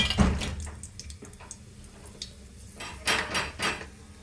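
Cloves, cinnamon and cardamom drop into a cooking pot for chicken pulav, a few small clinks and rattles against metal with soft handling sounds, close and quiet, no talk.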